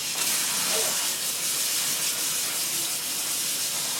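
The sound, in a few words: rinsing wild rice under cold running tap water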